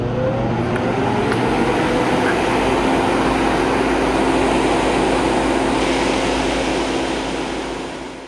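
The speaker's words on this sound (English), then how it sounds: "Get our exhaust fan going." A bench exhaust fan runs beside soldering work on USB floppy drives, giving a loud, steady whirring drone with a constant low hum underneath that tapers off near the end.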